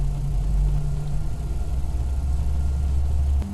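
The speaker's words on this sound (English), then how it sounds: "Engine 1. Start switch. On. Starting engine 1." Jet engine starting in Microsoft Flight Simulator X, a steady loud low drone with a strong low hum and faint rising tones, continuous and alone throughout, dropping slightly at the very end.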